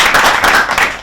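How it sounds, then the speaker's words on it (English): A short burst of clapping and applause for a quiz contestant on a televised quiz show, loud and close, with no talk. "applause again in favor of Kweku Tibu"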